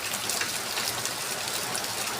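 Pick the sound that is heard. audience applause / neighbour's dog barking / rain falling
rain falling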